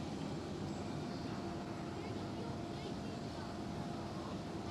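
Jet airliner engines at Schiphol airport, a continuous broad roar heard from a distance at steady moderate level, with no distinct change across the stretch.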